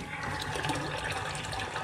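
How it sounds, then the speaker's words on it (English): Water pours out of a rabbit's water bottle in a brief, steady trickling splash, faint and close, lasting under two seconds with no talk. "We're gonna let the water out."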